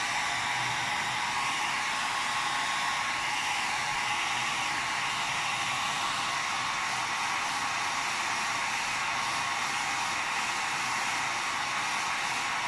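A hair dryer blows steadily for several seconds, drying paint on bubble wrap for a map background, a loud, even whooshing hum with no talking.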